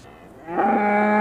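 A cow gives a single loud, close moo that swells after a brief quiet start and holds steady, heard alone in a farm-themed children's show.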